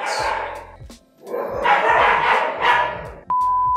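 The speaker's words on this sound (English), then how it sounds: "Dogs." Several dogs barking loudly and close in quick, overlapping bursts, with a brief lull before the barking resumes, then a sudden steady tone at the end.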